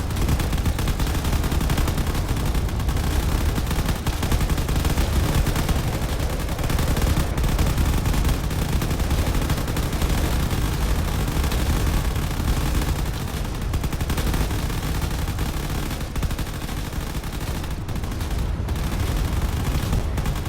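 Turret and carrier laser weapons firing in a space combat video game: a dense, continuous barrage of rapid, loud blasts and crackling shots with no pauses.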